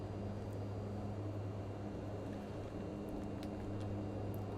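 Steady drone of the Mitsubishi MU-2's turboprop engines in Microsoft Flight Simulator, a constant loud hum with a low tonal band that holds evenly throughout as power is added, with no talk.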